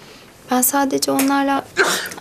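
Sneeze in a Turkish TV drama scene, a sharp burst with people talking around it in a room.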